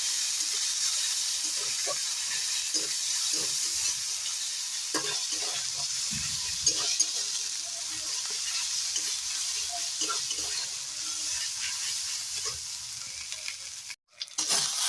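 Ginger, garlic and cumin paste fries in a pan with a continuous loud sizzle and hiss, broken by occasional scraping stirs, close up, ending with a brief dip.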